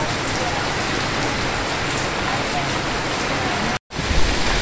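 Heavy, steady rain pours down during a village storm with strong wind, a dense continuous hiss drumming on surfaces close by.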